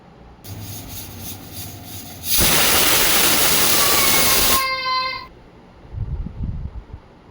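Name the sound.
pressure cooker whistling while cooking mutton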